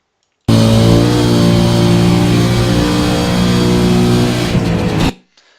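Race car engine in a racing game at Bathurst, holding a loud steady high drone with strong harmonics for about five seconds before cutting off abruptly, no talk.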